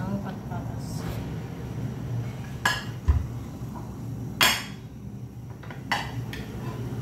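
Clinks and knocks of a potato going into a cooking pot of Filipino tinola, a few sharp clatters of pot and utensils spread over low kitchen hum, with a voice talking throughout.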